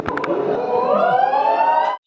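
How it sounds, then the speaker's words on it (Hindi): A loud ambulance siren wails up close, its tone sweeping upward over two seconds, with a couple of brief horn-like blips at the start. "ये पीछे एम्बुलेंस का भोपू इसलिए बज रहा है"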